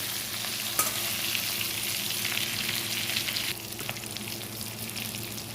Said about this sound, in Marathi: एक एक करता करता सगळ्या मिरच्या असं पलटी करायच्या